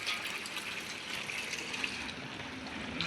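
Cows drinking water on a farm, a steady wash of flowing, splashing water running continuously without pause, moderately close and unbroken by speech.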